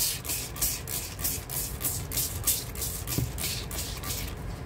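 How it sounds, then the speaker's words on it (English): A series of quick hissing sprays from a spray bottle onto paper being coffee-dyed, roughly a dozen short bursts in a steady rhythm, close up. "So I give it a good spray."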